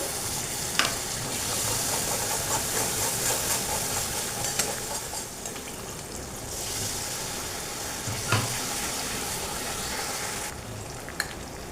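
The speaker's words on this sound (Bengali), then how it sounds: "টক দইটা দিয়ে একটু কষিয়ে নিয়েছি" Tomato, ginger, turmeric and sour curd sautéing in a pan for a white-sesame potato curry, a steady close sizzle and frying hiss with occasional stirring scrapes and clinks, no one speaking.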